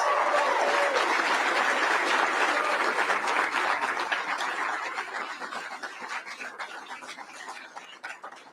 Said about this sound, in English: Let's give them a big round of applause for everything they've done for Kentucky over the years.